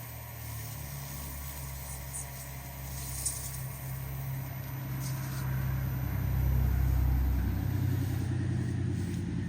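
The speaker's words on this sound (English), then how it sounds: "we just take some shavings, turn the lathe on" A wood lathe runs steadily while shavings are pressed against a turned lantern ornament to burnish it, giving a continuous mid-pitched motor hum with a faint rubbing texture that grows slightly louder toward the end.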